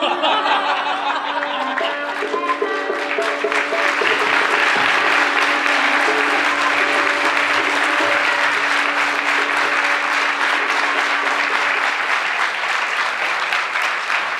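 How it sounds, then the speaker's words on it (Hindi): An audience at a Hindi stage play claps loudly and continuously, a dense unbroken wash of applause with scattered chuckles and light laughter mixed in, plus a faint steady tone underneath. "तालियां बजती रहे।"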